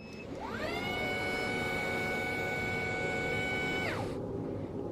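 An unloaded electric motor on a KO Moto controller whines up to a steady high pitch with the throttle held, holds a loud constant tone for several seconds, then quickly winds down.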